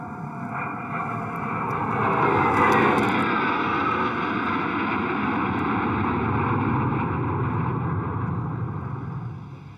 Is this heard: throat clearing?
no